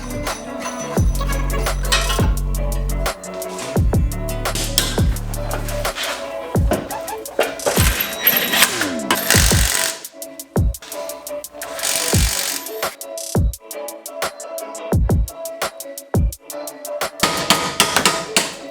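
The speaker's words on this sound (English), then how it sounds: "Just needed a little love from the chisel." A chisel struck with a hammer on an engine mount during an LS1 swap into an E36 M3, with a run of loud, sharp metallic blows and clanks between short pauses and bursts of shop clatter.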